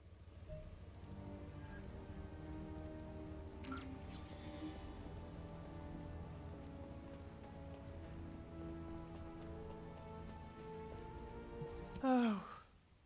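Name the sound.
rain in the video game The First Descendant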